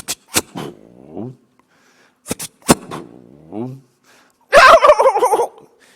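A voice imitates the gobbling of two strutting wild turkeys, with quavering, warbling bursts repeated several times in quick succession and a louder, rattling final call. The imitations are close and fairly loud.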